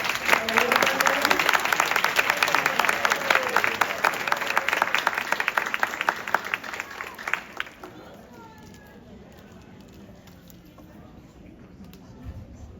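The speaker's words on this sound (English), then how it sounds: "Another round of applause for our" Applause fills a middle school sixth grade awards ceremony as an award recipient is honored: dense, steady clapping from the audience for about seven seconds, then fading into quiet room murmur.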